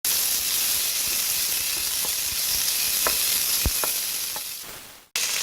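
Food sautéing in a drizzle of olive oil for a Chinese-style soup gives a steady bright sizzle, with a few sharp clinks of a utensil against the pan, fading near the end and then cutting out.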